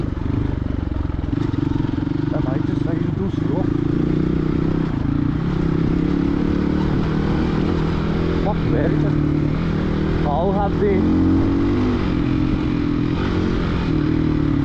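Hero Xpulse 230 motorcycles ridden fast over the rocks and sand of Leopard Trail, their engines droning steadily and loudly throughout, with people talking over the noise.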